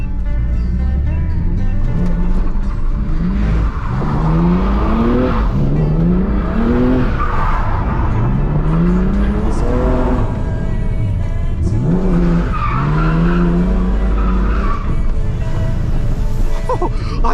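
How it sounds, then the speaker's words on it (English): A car drifting on a city street at midnight, heard from inside, repeatedly revs hard and shifts in loud rising sweeps, with tire squeal and skidding layered over the close, roaring engine. "and that's a car driving."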